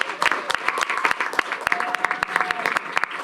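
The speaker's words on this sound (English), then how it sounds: "let's have another round of applause" Audience applause at a high school district board meeting, dense steady clapping from a crowd filling the whole stretch at an even level, with a faint voice underneath.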